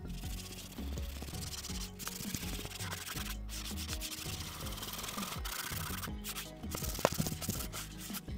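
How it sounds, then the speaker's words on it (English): Cloth rubbing finish into white oak wood on a floor lamp build, a steady dry scrubbing and swishing in repeated back-and-forth strokes, close and fairly quiet with no talking. "Simply rub it in, wait a few minutes, probably between 15 and 20 minutes, come back and rub it right back off."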